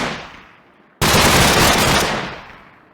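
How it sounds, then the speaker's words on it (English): An AK-47 assault rifle fires in Minecraft with the Flans Mod, a loud sustained burst of rapid automatic gunfire that cuts in sharply and then trails off, following a fading earlier shot, with no talking. "Now the AK-47 has a high recoil but has higher damage."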